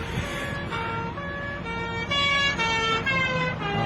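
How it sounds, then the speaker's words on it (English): A police car siren wails steadily with rising and falling tones over the continuous rumble of a vehicle, loud and close, with no voices. "another police car"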